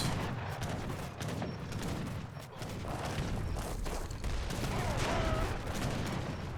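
Mortar blasts and gunfire from a real-time strategy battle in Age of Empires III: Definitive Edition, with rolling, overlapping shots and booms sounding dense and steady throughout.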